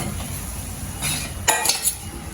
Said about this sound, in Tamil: சரி ஓகே இப்போ எல்லாத்தையும் பொறிச்சு எடுத்து போட்டு பார்ப்போமே